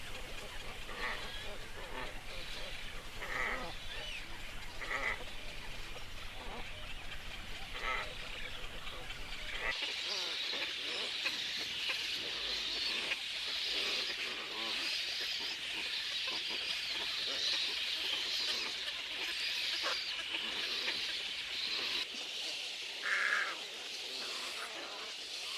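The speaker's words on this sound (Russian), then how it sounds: "У каждой пары орава шумных и подвижных птенцов." A large glossy ibis colony in the Agrakhan reserve, full of noisy chicks, keeps up a dense, steady din of overlapping chattering calls and squeals, loud and continuous throughout.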